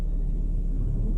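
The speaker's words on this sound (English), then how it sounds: "Where's the storm noise coming from?" Storm noise from the Xbox main menu, a steady low rumble that holds evenly without a break.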